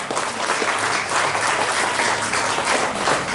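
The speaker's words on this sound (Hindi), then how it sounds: "वाकई सराहनीय तालियां" Loud, sustained applause from an audience at a sports competition held for World Disability Day, a thick continuous roar of clapping hands at a steady level.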